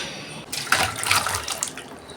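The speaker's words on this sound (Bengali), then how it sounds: "চলুন এবার এটা মাংস ঝোলটা ঢেলে নিই।" Meat curry gravy is poured from a pot, a short close liquid pour that swells and fades over about a second and a half.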